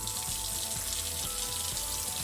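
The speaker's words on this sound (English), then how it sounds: "turn the faucet on about that high, not too hard, not too soft" Steady broadband rush of water running from a kitchen faucet at a moderate flow while salmon is rinsed, constant and close throughout with no talking.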